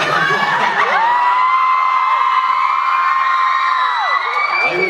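Fans scream and cheer loudly for Ed Sheeran, a dense, constant crowd roar full of high-pitched shrieks and whoops with no break throughout.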